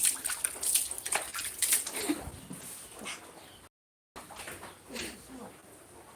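Water runs from a tap in a steady broadband rush that briefly cuts out midway and then resumes. Faint household noises and a possible dog whimper sit in the background.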